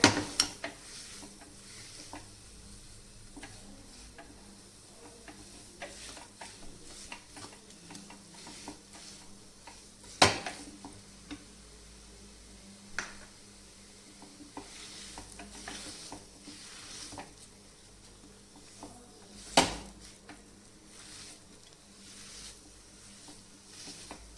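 Dried fruits being mashed and stirred in a pan for sugarless dry fruit burfi, heard as a steady soft scraping and squishing texture with occasional sharp knocks of the utensil against the pan.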